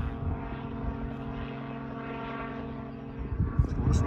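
Helicopter circling overhead during a motorcycle ride, a steady loud rotor and engine drone holding throughout, with a few closer knocks and rumbles near the end.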